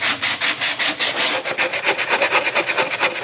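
Sandpaper rubs back and forth over a craft piece in quick, rhythmic strokes, loud and close, with no voices over it.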